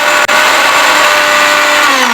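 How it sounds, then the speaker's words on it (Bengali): An electric mixer grinder whirs loudly and steadily as its jar blends cashew pieces into a fine paste for a methi chicken dish, a continuous high-pitched motor drone with no voices. "আমি একটা মিক্সিং জারের মধ্যে কিছুটা কাজুর কিউব নিয়ে তোমার ভালো করে আমি এটাকে মিহি পেস্ট বানিয়ে নেব"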